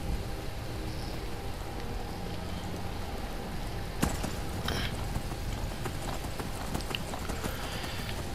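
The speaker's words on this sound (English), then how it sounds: "This is where that pitch black horse is supposed to be at." Horse hooves clip-clop at a steady walking pace in the video game Skyrim over a constant rain-like background hiss, with a sharp click partway through.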